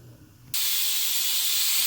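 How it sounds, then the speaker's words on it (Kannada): A pressure cooker boiling drumsticks and potatoes for sambar bursts into a loud, steady steam whistle after a half-second of quiet low rumble, continuing alone. "ಕುಕ್ಕರ್ ವಿಸಿಲ್ ಬರ್ತಿದೆ, 3 ವಿಸಿಲ್ ಆಗಿದೆ ನೋಡಿ."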